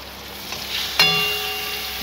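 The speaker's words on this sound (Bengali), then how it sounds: "মশলাটা ভালো করে কষিয়ে নিই।" Spices with coriander powder frying in a pan, a steady close sizzle with a sharp clink of a utensil midway and a faint ringing tone after it.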